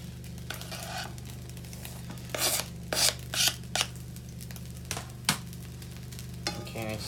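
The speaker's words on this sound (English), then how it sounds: "Now I will start to throw in the Pak Choi." Pak choi stirred into egg fried rice in a pan over high heat: a steady sizzle underneath, broken by repeated scraping and tossing strokes from a utensil, close and moderately quiet, with no talking.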